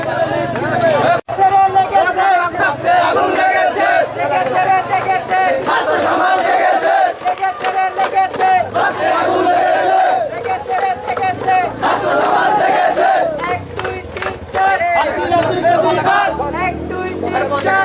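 A student protest crowd at Kholahati in Parbatipur, Dinajpur, chants slogans in unison, loud and sustained, with shouting voices filling the whole stretch and repeated rhythmic calls.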